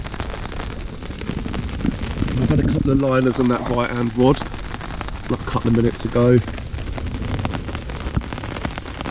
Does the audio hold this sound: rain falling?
yes